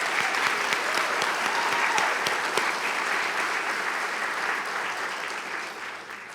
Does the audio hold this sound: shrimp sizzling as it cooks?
no